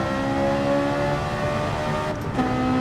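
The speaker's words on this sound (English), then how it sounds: "doesn't this car sound fantastic?" Race car engine in Gran Turismo 7 holds a strong harmonic whine at steady revs, then dips briefly as the gears shift before climbing again, loud and close with no speech.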